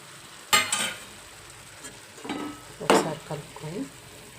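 Tomatoes frying in a mushroom curry are stirred in the pan with a few separate scraping strokes and bursts of sizzle, close and fairly loud, with quieter gaps between the stirs.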